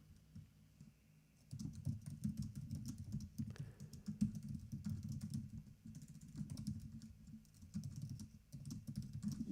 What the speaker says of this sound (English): Sorry about the keyboard sound there.